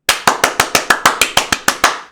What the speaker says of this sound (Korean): 자, 박수 한번 치겠습니다.